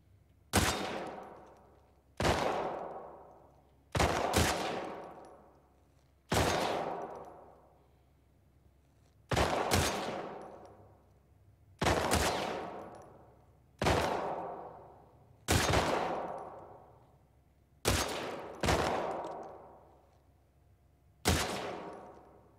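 Gunfire in The Last of Us Part II, about a dozen heavy single shots spaced a couple of seconds apart, each sharp blast trailing off in a long echoing decay, with no talking between them.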